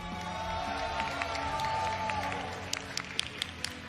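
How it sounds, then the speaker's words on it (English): A crowd at the Arc World Tour Finals 2023 applauding and cheering for a second-place finisher, a distant washy roar of clapping under a hum, with sharper nearby claps standing out toward the end. "can we all make some noise out in the crowd for Mario?"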